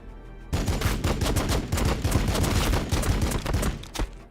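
Heavy rapid gunfire from squads in Warhammer 40k Battlesector erupts suddenly and rattles on continuously as dense, loud, overlapping bursts.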